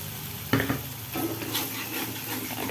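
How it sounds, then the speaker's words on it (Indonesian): A spatula stirs egg through sizzling seblak seasoning in a frying pan, with a sharp scrape and clatter followed by a continuous close hiss of frying, with no voices. "Sekarang kita masukin telur. Nah, kita aduk terus"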